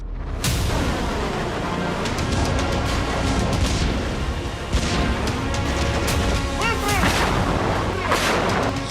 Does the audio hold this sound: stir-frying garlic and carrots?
no